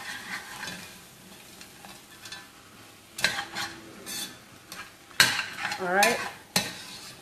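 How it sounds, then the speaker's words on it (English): A spoon stirs a homemade vegetable stew in a pot, the food sizzling softly beneath scrapes and clacks that come in bursts and grow louder near the end, with a brief spoken remark. "let's give it a stir, see how we're doing in proportion to these"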